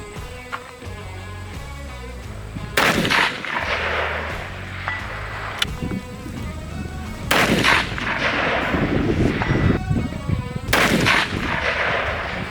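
Three rifle shots fired from a tripod-supported shooting position, each a loud sharp crack with a ringing tail, spaced several seconds apart over faint background music and with no talking.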